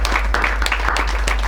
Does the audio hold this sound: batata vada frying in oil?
no